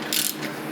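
A hand ratchet tightens an exhaust clamp on a Mercedes-AMG M133 turbo setup, giving a quick close burst of metallic clicking strokes.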